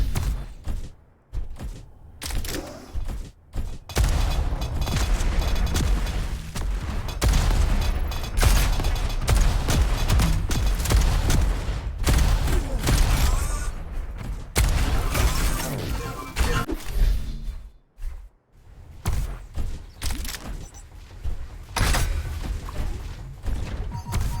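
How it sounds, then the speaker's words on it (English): Grenade blasts in a video game duel, a dense, loud barrage of booming crashes and thuds that fills most of the stretch, dropping briefly into near silence between bursts before the explosive noise returns. "I hate grenades. I'm sorry, that was loud."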